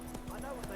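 Horse hooves galloping in The Witcher 3, a quick rhythmic clip-clop of a few beats under a voice, brief and moderately loud.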